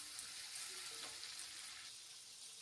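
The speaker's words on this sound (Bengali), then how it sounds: "তো আমি তাতে ভেজে নেবো লাল করে।" Boiled potatoes, with salt, lemon and tomato added, fry in hot oil in a pan, giving a steady soft sizzle that fades a little toward the end.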